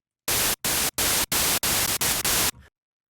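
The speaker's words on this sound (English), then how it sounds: "Like original white noise and some synth." Harsh white noise synthesized in Harmor plays in six loud, abrupt bursts with very sharp attacks and short silent gaps between them, ending in a faint, brief tail.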